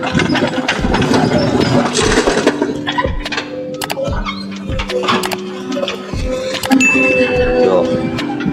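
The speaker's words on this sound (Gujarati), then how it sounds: "જો વિક્રમભાઈ હાંકે છે જીસીબી." A JCB backhoe engine runs at a steady mid-pitched idle and labour while loading a tractor outdoors, punctuated by metallic clinks and knocks, with people talking nearby.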